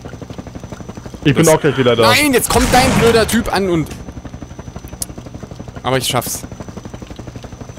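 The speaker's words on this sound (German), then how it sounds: "Ich sehe den Heli schon." A helicopter in the video game No More Room in Hell gives a steady, fast rhythmic rotor thumping throughout, moderately loud under excited talking voices.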